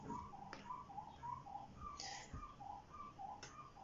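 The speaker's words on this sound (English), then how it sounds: "If you can hear that bird, I'm sorry." A bird calls repeatedly in a steady series of short, mid-pitched notes, fairly faint against a low background hum, with a couple of brief clicks.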